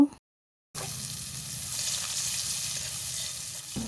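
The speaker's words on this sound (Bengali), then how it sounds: "এই তেলের মধ্যে দিয়ে দিলাম কুচনো পেঁয়াজ পেঁয়াজ আমি লাল করে ভেজে নেব" Chopped onions drop into oil left over from frying pous fish, and after a brief silent pause a steady, close sizzle hisses and bubbles continuously until it drops off at the end.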